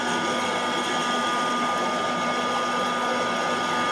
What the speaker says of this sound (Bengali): এই ধরনের একটা পপকর্ন মেকার থাকলে আপনারা সহজে পপকর্ন বানিয়ে নিতে পারবেন।